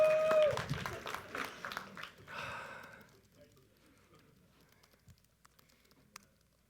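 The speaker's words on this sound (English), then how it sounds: "Don't applaud that." Brief burst of audience applause and patter after a joke at a tech conference talk on Symfony, loud for about three seconds then fading into a quiet room with a few faint sounds.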